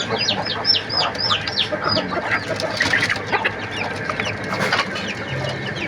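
Desi chickens on a farm cluck steadily while feeding, several birds overlapping in a busy, close chorus over a constant ambient background.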